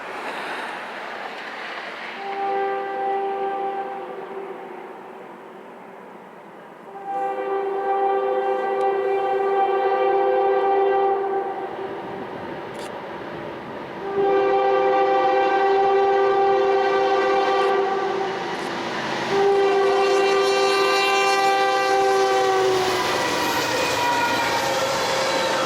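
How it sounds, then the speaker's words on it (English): A CN freight led by two ES44DC locomotives on the Hinckley Sub, Superior to Northtown, sounds its horn in several long, loud harmonic blasts over a rumbling passing train in snowy surroundings. "The next train we'll see is the daily Superior to Northtown, now with snow on the ground, and oh look, another CN duo."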